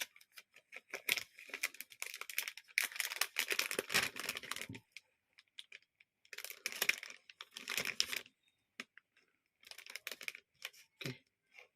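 A plastic bag crinkles close up as cut dragon fruit pieces are dropped in, with crisp bursts of rustling broken by short quiet gaps.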